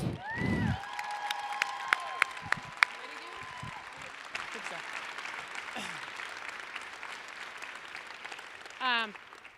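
Crowd applause and cheering at the Earp-a-palooza 2022 closing ceremony, a steady distant wash of clapping with scattered whoops and shouts, and a voice briefly heard near the start.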